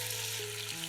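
Chicken fillet pieces go into hot vegetable oil in a pan, setting off a brief, bright burst of steady sizzling under soft background music.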